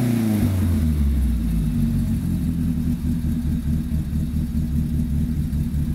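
Engine of a 1995 Volkswagen Parati Surf car, a modified build, revving close by: a loud, steady low rumble that drops in pitch early on and then holds an even, throbbing note for the rest of the stretch.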